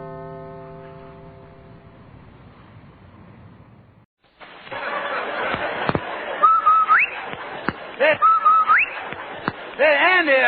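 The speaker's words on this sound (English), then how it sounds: "Did you hear that, the whistle?" A rising whistle cue on a vintage radio show, sounding twice as short upward glides over a busy broadcast mix of music and noise, fairly loud and close.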